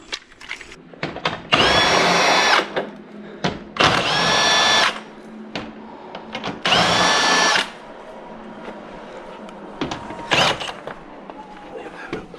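A power drill spins out bolts on a Ford F150 air dam, three loud whirring bursts of a couple seconds each with clinks and handling noises between, close and over background.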